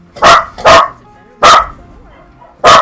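Puppy barking in the video game Genshin Impact, four loud close yips in an uneven rhythm, two quick barks followed by two spaced ones, with no talk between them.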